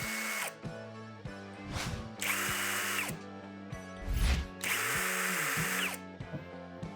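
A Procraft PS22 cordless drill-driver whirs in short bursts separated by pauses, each run stepping up in pitch as the speed setting rises, with one brief low rattle partway through.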